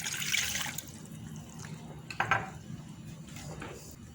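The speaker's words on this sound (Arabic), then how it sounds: "هحط فيها كوبايه ميه" Water pours into a kettle in a home kitchen in a brief hissing splash, followed by quieter clinks and trickles at close range, with no talking.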